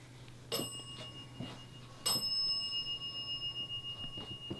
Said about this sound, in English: Francis, if you set off that bell, thank you. Could you set it off again if that is you?